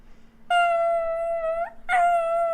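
A dog lets out two loud, close howls: a long sustained one that bends upward at the end, then a shorter second howl.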